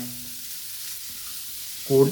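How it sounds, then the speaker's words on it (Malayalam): Shallots and green chillies sauté in coconut oil in a pan, giving a soft, steady sizzle that briefly swells with a louder stirring clatter just before the end. "ഇനി ചെറിയ ഉള്ളി പച്ചമുളക് കൂടി നല്ലപോലെ അങ്ങോട്ട് വഴറ്റാം"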